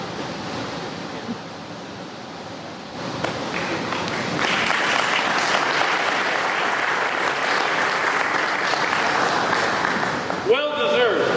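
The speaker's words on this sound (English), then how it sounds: "So everybody give Matt an applause, and we want to congratulate him for that." Audience applause at an FFA awards banquet, starting moderate then swelling louder and denser after a few seconds, sustained steady clapping filling the room, with a short burst of talk near the end.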